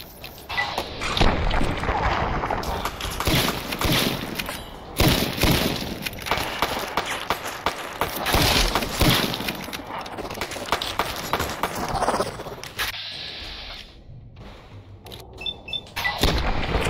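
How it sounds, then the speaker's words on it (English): Shotgun blasts and a run of other weapon fire in Fallout, set in the Sierra Madre: dense, loud, repeated booming shots with clattering and footsteps, continuing almost without pause, with a brief lull near the end. "Shotgun."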